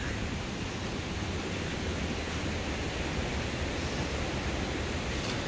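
Dau Dang waterfall in the Ba Be forest, Bac Kan, sends up a steady, dense roar of rushing water that holds at an even loudness throughout, with no voices heard.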